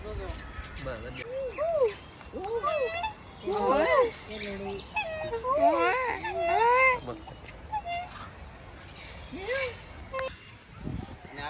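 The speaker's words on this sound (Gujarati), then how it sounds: "બતક અલગ અલગ પ્રકારના બહુ બતક છે" Ducks call repeatedly in a busy, overlapping chorus of nasal quacks and honks, close by, with people talking faintly in the background.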